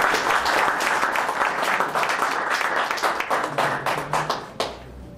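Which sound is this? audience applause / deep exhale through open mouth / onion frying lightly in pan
audience applause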